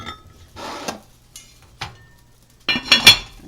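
Spoon stirring a simmering Sicilian-style Italian tomato sauce in a pot, a few separate scraping strokes and clinks against the metal, the last burst louder, over quiet background.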